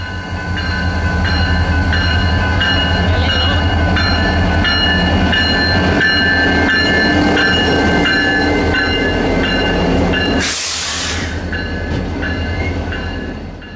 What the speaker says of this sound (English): the train made its way along the main line past the station